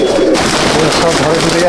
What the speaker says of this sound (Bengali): এত পায়রা